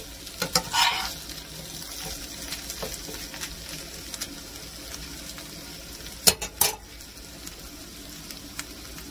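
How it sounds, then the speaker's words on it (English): Potatoes fry in a pan for a fish dinner, a quiet continuous sizzle broken by a few sharp clatters and scrapes as they are flipped, with no talking. "Give the potatoes another flip because I like them crispy."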